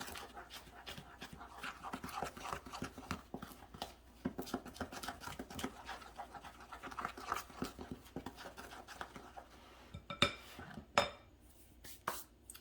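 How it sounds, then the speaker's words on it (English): Dry muffin ingredients, including salt, are stirred together in a bowl, giving a quiet run of irregular scraping and clinking taps of utensil against the bowl, with a few sharper knocks near the end. "we are going to mix this dry ingredients all together here"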